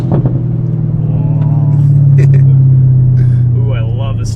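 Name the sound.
ZL1 Camaro with open MRT exhaust accelerating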